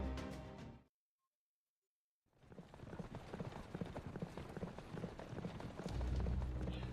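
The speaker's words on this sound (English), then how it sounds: "I will be taking you guys right up to the border in one of those golem-drawn carriages" Golem-drawn carriage rolling along in a fantasy video game, with rhythmic clip-clop footfalls and rumbling wheels after a short silence, steady and moderately near.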